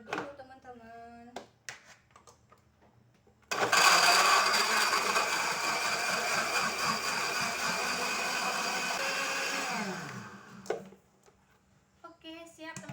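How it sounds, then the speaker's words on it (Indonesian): Kitchen blender whirs loudly for about six seconds, blending fish innards with a little water, then winds down; someone talks briefly before and after it runs. "Lanjut kita blender dulu teman-teman."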